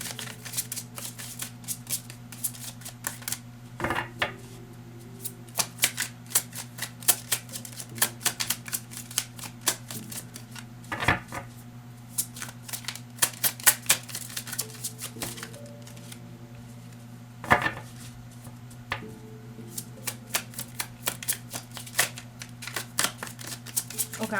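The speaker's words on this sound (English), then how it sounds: "I'm gonna shuffle one more time" Tarot cards being shuffled close up, repeated bursts of rapid riffling and flicking over a steady low hum, with short pauses between shuffles.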